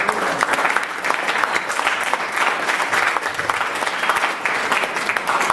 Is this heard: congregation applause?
yes